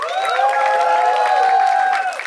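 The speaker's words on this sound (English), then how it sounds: "Round of applause for कहाँ शुरू कहाँ खत्म." A crowd at a Hindi movie music and trailer launch bursts into loud cheering, with sustained whoops and shouts riding over clapping for a couple of seconds.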